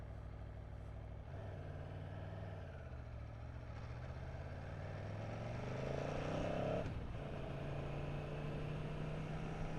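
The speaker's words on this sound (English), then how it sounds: "Love the way it sounds just sitting here at idle." An Aprilia Tuono 1100 Factory motorcycle engine idling nearby, a steady low rumbling drone with a brief rev that rises and then falls back to a settled idle.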